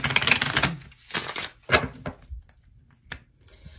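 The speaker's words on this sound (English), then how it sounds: "give me 2 more shuffles for my Cancerians" Tarot cards riffle and slap together in several quick bursts, close and crisp, followed by a few softer taps; no voices.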